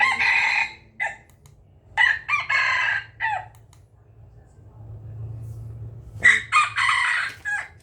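Rooster crowing plays from a remote-controlled electronic speaker: several loud, close crow calls come in bursts, a pause with a low hum between, then another crow near the end.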